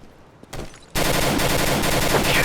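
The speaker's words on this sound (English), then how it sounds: "A full automatic rifle," A SCAR17 assault rifle in CS:GO firing full auto: a brief burst first, then a sustained, rapid stream of loud gunshots running to the end.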